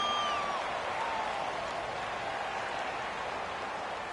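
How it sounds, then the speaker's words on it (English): Crowd cheering and roaring in a PS4 football video game ahead of a big third down late in the game, a steady, loud wash of noise throughout with no talk over it. "The crowd getting into it as we come up on a big third down."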